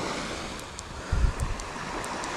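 Sea waves wash onto a beach at night, a soft continuous surf hiss with a low swell rising briefly midway, heard alone with light wind.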